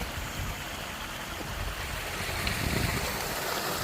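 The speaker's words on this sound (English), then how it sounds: "There it's flowing and filling up this dam." Water flowing into a farm dam, a steady broadband rush and gurgle continuing unbroken, loud and close with no voices.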